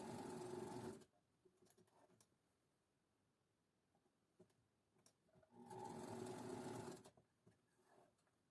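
A sewing machine stitches the side seams of a garment, backstitching at the start and end: two close, loud bursts of whirring stitching separated by a long quiet pause with light handling clicks.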